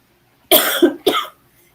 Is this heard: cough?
yes